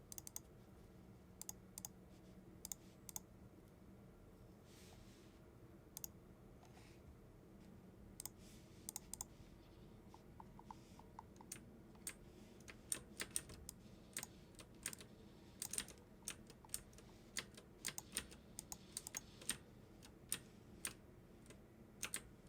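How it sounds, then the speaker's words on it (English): Mouse switches on a Mionix Avior 7000 ambidextrous gaming mouse click repeatedly at close range, sharp isolated clicks arriving in irregular bursts that grow denser toward the end, with no talking over them. "Here's a quick sample of what the switches that they use on this mouse sound like."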